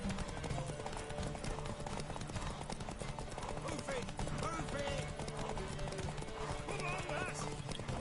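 Horse hooves gallop in a horse race in The Witcher video game, a fast, continuous clip-clop rhythm with occasional neighs, close and loud, with a voice underneath.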